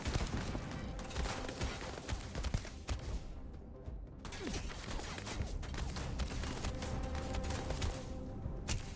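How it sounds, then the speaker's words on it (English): Dense, continuous gunfire and explosive bursts from a grenade launcher in the space game Starfield, loud and close, with layered booms and rattling shots throughout and no speech. "grenade launcher."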